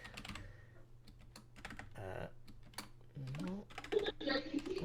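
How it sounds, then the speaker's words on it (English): Quick bursts of clicking keystrokes on a computer keyboard come in uneven runs, close and fairly quiet, with a person talking between and over them. "God damn my fingers and typing on a keyboard."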